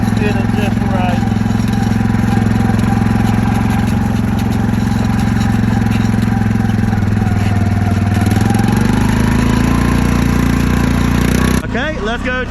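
A Honda 300 ATV converted to a six-wheel 6x6 drives with its engine droning loudly and steadily up close, the pitch shifting slightly partway through before cutting abruptly near the end.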